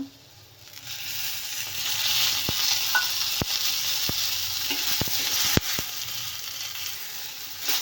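Tomatoes roast in a little oil in a pan, giving a steady close sizzle with several sharp spatula knocks and scrapes spaced about a second apart.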